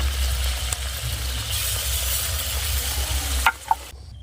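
Ground ginger, cumin and coriander paste goes into a pan with onion, tomato and green chilli for a fish curry, giving a steady close sizzle and stirring, with a couple of utensil knocks near the end.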